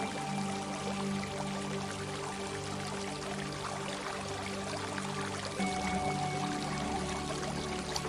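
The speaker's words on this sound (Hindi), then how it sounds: "आप इस फव्वारे में स्नान करने के लिए आगे बढ़ते हैं।" Water pours continuously from a fountain in a steady, even splash, with soft sustained tones humming beneath it and no speech.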